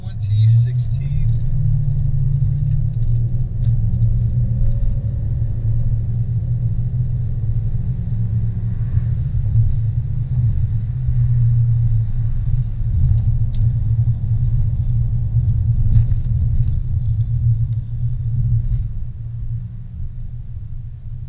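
Car driving along a highway toward Big Bear Lake, California, just off the 15 freeway, a steady loud low engine and road rumble inside the cabin with little change throughout, no speech.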